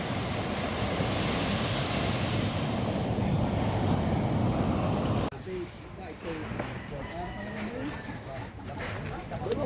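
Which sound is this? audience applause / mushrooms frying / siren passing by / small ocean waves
small ocean waves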